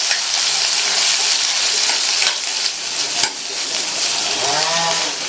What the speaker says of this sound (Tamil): சின்ன வெங்காயம் சேர்த்து பண்ணுங்கள்